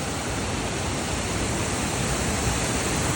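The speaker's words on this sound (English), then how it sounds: "At the baby waterfall on Upper West River Street at the Upper Duck Pond." Small waterfall spilling into an upper duck pond on a river street downtown, a steady broadband rush of falling water that holds constant and close with no voices throughout.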